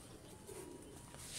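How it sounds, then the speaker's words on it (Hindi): Pigeons coo softly amid faint background noise at a breeder's loft, with low, gentle calls over a steady, quiet ambience. "नायाब कबूतर मलिक साहब के"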